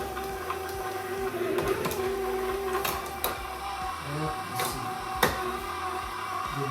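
Machine mixing ground pork sausage meat with water, a continuous mechanical whirr and rumble with occasional knocks and clunks, close and steady throughout.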